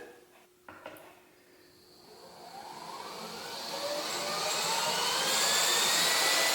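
A rebalanced bench grinder, its temporary weights removed after epoxy cured, runs up to about 2,500 RPM at full drive: a whine that climbs steadily in pitch and grows louder to a sustained high hum, with no talk.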